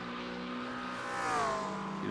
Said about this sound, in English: The pops and bangs from the exhaust of that mid-engine McLaren